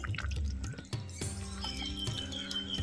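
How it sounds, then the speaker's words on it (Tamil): Fried sardine fish gravy simmers in a pot, giving faint, irregular bubbling pops and drips with an occasional light clink. The sound is quiet and close. "நல்லா கொதியும் வந்துருச்சு"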